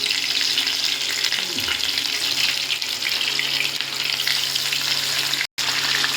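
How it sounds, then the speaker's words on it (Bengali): Bhola fish fry in hot mustard oil with a loud, steady, close-up sizzle over a low constant hum, broken once by a brief dropout. "দেখুন মাছগুলো ভাজা হচ্ছে"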